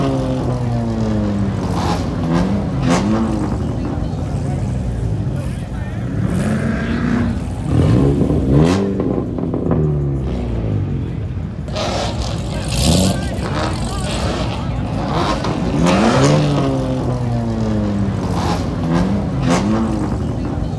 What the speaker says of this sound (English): Maybe I should give it some revs.